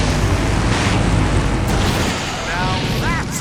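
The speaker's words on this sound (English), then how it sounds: "Now that's an explosion, ladies and gentlemen." A big explosion in the video game Full Throttle Remastered, a loud sustained rumbling blast with crackling debris that fills the whole moment, followed by brief whistling tones near the end.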